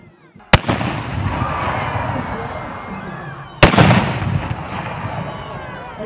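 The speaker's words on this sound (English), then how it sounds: "round 2 of the fireworks. I hope this is as good as the first one" Bonfire Night fireworks display: two sharp, loud explosive bangs a few seconds apart, each followed by long crackling and rumbling that echoes across an open outdoor space.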